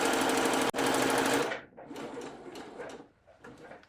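A sewing machine stitches the sleeves of a cotton-style peasant top, running loud and fast for about a second and a half, briefly pausing, then settling into quieter bursts of stitching as the fabric is fed through.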